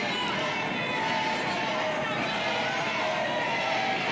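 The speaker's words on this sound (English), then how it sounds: "The crowd here chanting chicken." Wrestling crowd noise from a live indie wrestling event at a coliseum, a steady dense roar of many voices that holds at even loudness throughout, with no distinct chant rhythm standing out.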